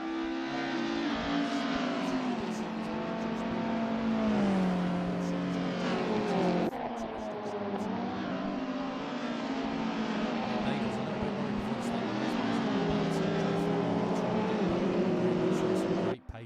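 Touring cars in the Century Sim Touring Car Championship video game stream down toward Redgate at Donington, engines wailing and shifting through gears in a dense, continuous roar of several cars, with commentary running underneath.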